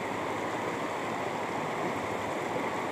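River water flowing steadily beneath a swaying bamboo bridge in a rural village, a continuous broad rushing wash with no breaks, moderately loud and alone without any voices.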